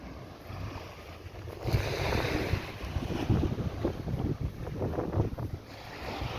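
Sea waves at Brandons Beach, Barbados wash in with a broad surging hiss, swelling and fading in uneven pulses, mixed with gusty wind buffeting the microphone; no one speaks.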